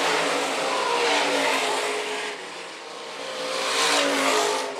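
IMCA stock cars race around the dirt oval at Phillips County Raceway, engines roaring loud and steady as a pack passes close, the sound swelling, dipping briefly and surging back.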